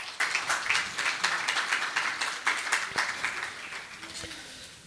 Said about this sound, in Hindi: एक मरतबा भरपूर तालियाँ